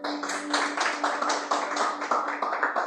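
A church congregation claps together in praise, a steady rhythmic beat of hand claps at a brisk, even pace over a low hum, moderately soft and without talk.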